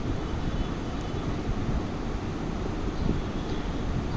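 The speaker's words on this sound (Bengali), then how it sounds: "তো এখানে আমি চিংড়িগুলো এই তেলের মধ্যে ভেজে নেব।" Local shrimp fry in hot oil with a steady, dense, even sizzle throughout, close up and without talk.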